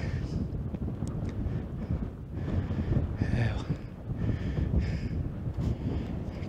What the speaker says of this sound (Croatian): I vjetar s Dinare puše ovdje.